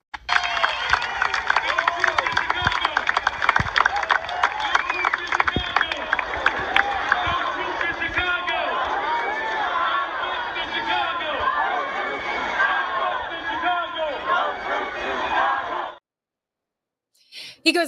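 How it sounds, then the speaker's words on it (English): A dense protest crowd in Chicago, many voices chanting and shouting together with scattered claps and cheers, loud and continuous before cutting out abruptly near the end. "there's a protest going on in Chicago today"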